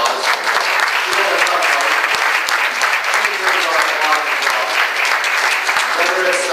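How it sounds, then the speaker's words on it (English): An audience at a Conservative victory reception in Toronto breaks into dense, sustained applause, loud and close, with a few voices and cheers mixed into the crowd noise. "Please give her a round of applause."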